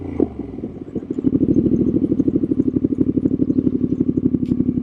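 Triumph Street Scrambler 900 motorcycle engine running close by, a brief blip at the start, then a steady, rapid pulsing exhaust throb that holds loud and even throughout, with no talk.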